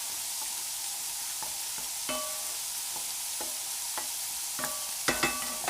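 Bolognaise sauce frying in a pan and being stirred, a steady sizzle with spoon scrapes and knocks against the pan at irregular intervals, close and clear with no talking.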